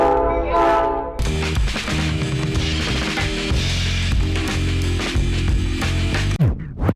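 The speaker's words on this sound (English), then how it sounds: "I didn't know the train was leaving." A train pulls out of the station in Jim Thorpe, Pennsylvania, its horn blaring loud and close before heavy rolling rumble and clatter of the cars take over, then cut off abruptly.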